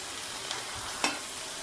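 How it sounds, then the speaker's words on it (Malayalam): Cauliflower pieces fry in hot oil with a steady, soft sizzle and a couple of faint clinks, fairly quiet and without speech. "ഇനി ഇതുപോലെ തന്നെ നമ്മൾ ബാക്കിയുള്ള കോളിഫ്ലവറും വറുത്തെടുക്കാം കേട്ടോ."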